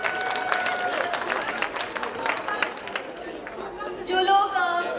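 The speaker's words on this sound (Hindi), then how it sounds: "अपने आप के लिए एक जोरदार तालियां प्लीज बजाएं" Crowd applause and chatter at a Nazimabad reunion gathering in Dallas welcoming out-of-town guests, steady clapping blended with babble from many people, rising briefly near the end.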